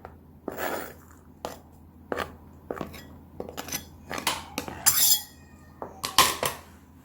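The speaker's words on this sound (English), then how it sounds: "So I'm just going to crush it just like that" Garlic crushed in a mortar with a pestle for garlic chutney: a series of sharp knocking and grinding clinks, irregular strikes about once a second, close and fairly loud, over a quiet background.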